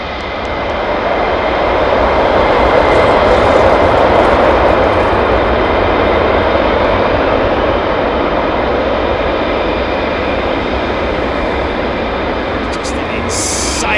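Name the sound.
F-22 Raptor fighter jet engine firing up on runway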